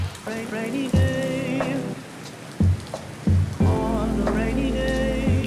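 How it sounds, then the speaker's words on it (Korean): Steady rain falls outdoors in a continuous hiss, close and fairly loud, broken by a few louder bursts and thuds, with no one speaking. "이렇게 보시면 지금 비가 오는 게 보이실 거예요."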